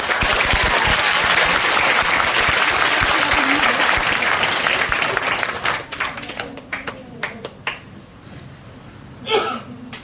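Loud, dense applause from a crowd at a school farewell and honouring ceremony for a teacher, strong and continuous at first, then thinning into scattered individual claps and fading out.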